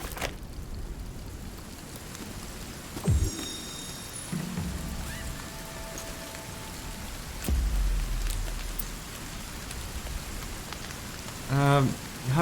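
Steady rain falls in the survival video game Sons Of The Forest, a constant wash of patter with a few brief thumps and tonal game sounds over it.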